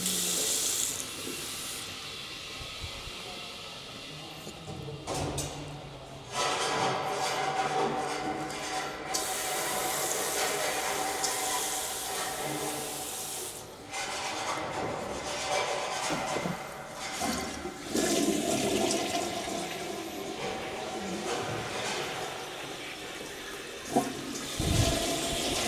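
Water running from bathroom taps and toilets flushing while bathrooms are tested, a long stretch of loud rushing and gurgling with several surges and breaks, close by and without talk.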